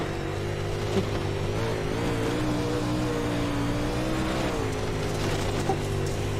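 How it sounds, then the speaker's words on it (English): An orange race car's engine drones steadily from onboard during a night speed-week session on track, a loud continuous engine note with slight pitch rises and dips, with no talk over it. "Let's ride on board with Trevor, see what kind of line he's running right now, the orange machine"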